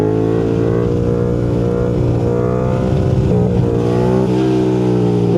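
A Yamaha MT-07 motorcycle pulls away and accelerates, its engine note loud and close, rising steadily with a gear change partway through, no voices heard.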